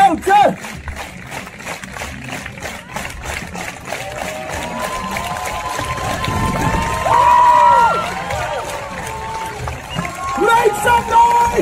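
A large crowd cheers and shouts in a loud, sustained roar, with rhythmic clapping early on and voices swelling and fading throughout.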